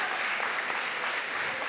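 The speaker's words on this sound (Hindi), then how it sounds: "तालियां सर के लिए, क्या बात" Audience applause at an annual mushaira, a poetry evening at Gujranwala Medical College, a steady dense wash of clapping from a large crowd throughout the short stretch.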